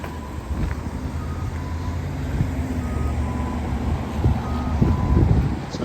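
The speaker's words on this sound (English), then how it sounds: "Now you get some traffic noise" Traffic passes along a city street beside a sidewalk, a low rumbling wash of engines and tires that slowly builds, with a truck's reversing beeps pulsing faintly and wind brushing the microphone.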